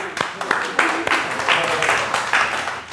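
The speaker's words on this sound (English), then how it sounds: "We give a round of applause." Audience applause at a talk, a mix of scattered claps and a crowd clapping together, moderately loud, with some voices mixed in.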